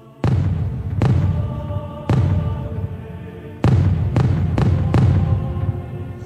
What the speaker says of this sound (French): On entend aussitôt 3 salves de 15 coups d'artillerie.